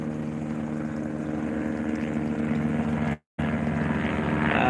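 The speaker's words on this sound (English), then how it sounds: "That chopper's coming back around." Helicopter circling back overhead outdoors near a backyard pool, a steady droning rotor and engine rumble at moderate distance, continuous apart from one brief cut.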